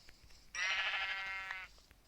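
A single sheep bleat from a video game, a clear wavering baa lasting about a second, fairly close against a quiet background without talk.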